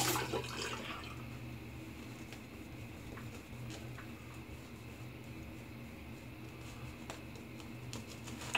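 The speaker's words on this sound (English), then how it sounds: "So I got plenty of water in the brush to just start going in." Water runs steadily from a tap nearby onto a shaving brush, a continuous close hiss with a few small clicks and drips, and no voices.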